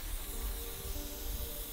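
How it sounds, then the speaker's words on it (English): A steady, close hiss of an airless paint sprayer applying stain to a fence runs continuously with a faint low rumble underneath, no pauses. "When we're spraying like AJ is doing right now, it's got a continuous motion."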